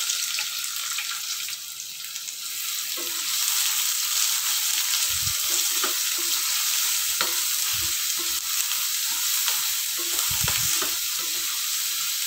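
Onions fry over medium heat in a pan with ginger and garlic for dhaba-style paneer bhurji. A loud, continuous sizzle carries throughout, broken by a few clattering stirs of a spoon against the pan.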